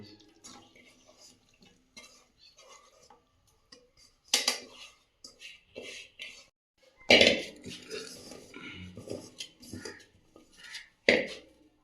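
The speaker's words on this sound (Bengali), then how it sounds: "এই ম্যারিনেট করা মাংসটা আমি এবার কড়াইতে দিয়ে দেবো" Marinated meat is tipped into a kadai on a kitchen stove, giving scattered clinks and knocks of metal cookware with a few louder clattering bursts, close by and with no voice.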